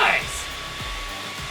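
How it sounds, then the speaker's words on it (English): A hair dryer blows with a steady whooshing hum and faint whine, continuous throughout the clip. "Wait, what? A hairdryer?"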